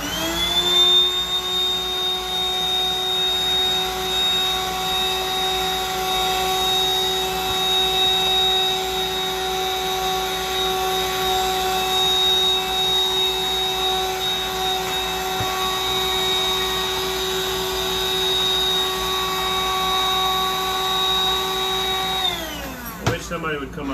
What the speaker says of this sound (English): I'm drilling this out bigger, so it doesn't matter.